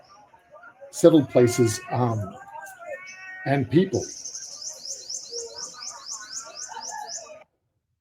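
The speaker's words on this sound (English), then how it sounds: "You can probably hear some Indian minor birds, also some turtle doves" Field recording of Indian myna birds and turtle doves in a settled place: varied close chirps, squawks and whistles, ending in a quick series of repeated high trilling calls, with a brief voice speaking among them.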